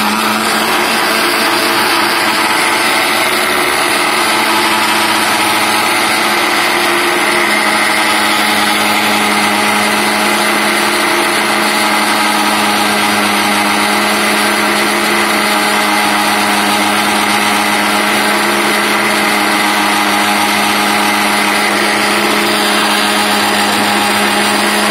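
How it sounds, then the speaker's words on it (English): A blender whirs steadily for about 25 seconds with its lid fixed tight, emulsifying homemade mayonnaise made with egg; a constant, loud, even motor drone with no talking. "fix the lid tightly"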